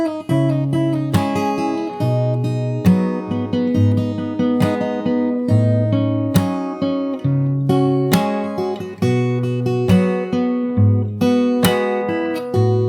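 Close acoustic guitar played fingerstyle through the chorus of a song, crisp plucked bass notes and chord hits in an even rhythm, solo and unaccompanied throughout.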